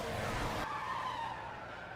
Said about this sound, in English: Car hit the wall.